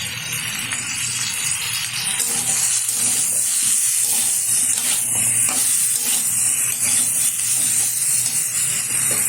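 Vegetables and chicken being stirred in a hot pan for chicken stew, a steady loud sizzle with soft scraping movements running throughout.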